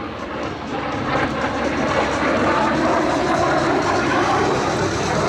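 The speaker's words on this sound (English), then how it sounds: "taking to the air right now, one of the L-39 Albatross, Mr. Kevin Walker." An L-39 Albatross jet trainer takes off at an air show, producing a loud, steady, broadband jet roar that holds without a break for the whole stretch.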